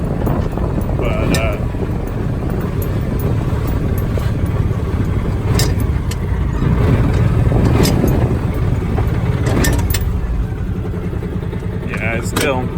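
A Mule 2510 utility vehicle driving after repairs, its engine droning steadily under heavy wind noise with scattered knocks and rattles; a person talks over it.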